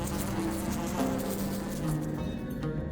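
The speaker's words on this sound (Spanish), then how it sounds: "Una plaga de moscas asoló Egipto" A swarm of flies buzzing as a sound effect, a dense continuous drone that stays steady throughout and fades slightly at the end, with no talk over it.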